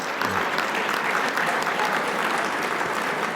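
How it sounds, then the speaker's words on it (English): Steady, dense audience applause at an awards gathering, a full even roar of many hands clapping without a break for over three seconds. "So a round of applause once again for Ray Hornblower."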